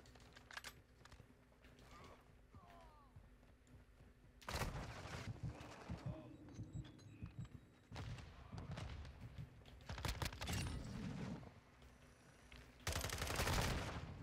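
FSS Hurricane submachine gun firing in Call of Duty: Modern Warfare II multiplayer, several short bursts of rapid shots spread over a quiet stretch, with faint keyboard clicks between them.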